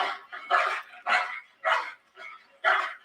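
A dog barks six times in a steady, loud series, each bark close and sharp with short gaps between.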